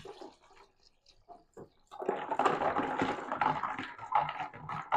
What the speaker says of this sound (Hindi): अब थोड़ा सा पानी इसमें और डाल देते हैं।